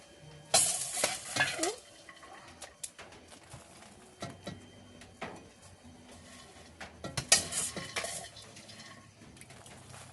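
Food frying in a pan during home cooking for a small graduation feast, with scattered sizzling bursts and stirring clatter of utensils against the pan, moderately close, no talk.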